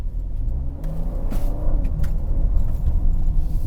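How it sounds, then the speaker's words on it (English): Ford Edge ST engine pulling under acceleration on a straight road, a steady low rumble with rising engine tone heard from inside the car. "We're gonna come up to a little straightaway where I can give it a little bit of gas."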